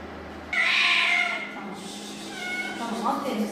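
A cat gives a drawn-out meow, loud and close, with a person talking softly nearby and faint household sounds under it.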